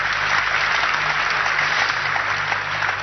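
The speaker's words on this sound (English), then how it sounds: "Let us clap for Jesus." Church congregation clapping for Jesus during a service, a steady dense wash of hands that holds at an even level throughout with a faint low hum beneath it.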